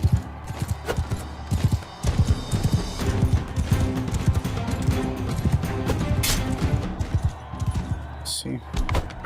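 Horse hooves pound rhythmically through a Bannerlord battle round, a steady galloping clatter close by amid combat noise and occasional talk, with a brief sharp sound near the end.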